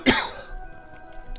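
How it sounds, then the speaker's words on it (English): A single sharp cough lands right into a close microphone, followed by a quiet room tone. "cough right into the microphone here"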